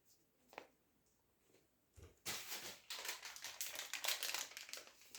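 A small plastic packet from a headphone unboxing crinkles quietly: a couple of faint taps, then a close, continuous rustle and crackle of handled plastic that grows busier toward the end.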